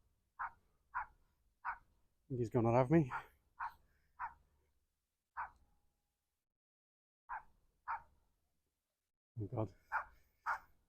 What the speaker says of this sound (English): He's just barking at me with the camera.